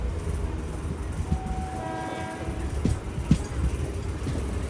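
A train pulling into Krishnarajapuram station near Bengaluru, heard as a steady low rumble of rolling wagons with a faint horn tone and a few clanks, moderately distant.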